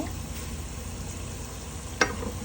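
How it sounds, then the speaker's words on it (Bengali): Catla fish head simmers and fries with chilli powder and garam masala in a pan, giving a low, steady background sizzle with one sharp utensil clink near the end and no talking. "একদম মাছ ভালো করে কষাবো"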